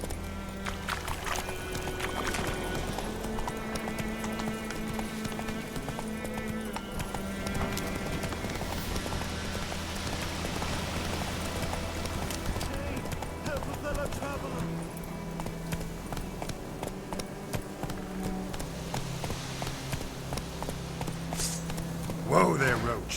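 Hoofbeats from Roach, the horse in The Witcher 3, drum in a steady rapid gallop through most of the stretch, with game music and speech layered over them.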